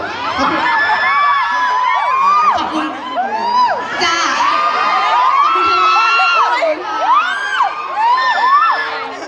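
A fan crowd at the CTFC fifth-anniversary event screams and cheers nonstop, with high-pitched shrieks and whoops rising and falling in loud waves close by.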